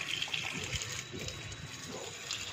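Steady gushing water splashes continuously, a hose or tap running nearby with a faint background hiss.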